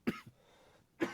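A person lets out two short, sharp coughs about a second apart, close and fairly loud in an otherwise quiet room.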